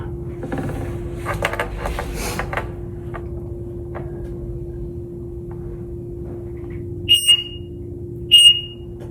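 A Gizmo Engineering drum alarm sounds two short, loud electronic beeps near the end, after a steady hum and some clattering handling noise.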